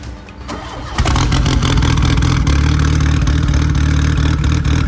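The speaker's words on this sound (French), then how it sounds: "On va d'abord faire un petit démarrage du moteur." A 1983 Renault R5 Turbo 2 engine cranks briefly, then catches and settles into a loud, close, steady idle.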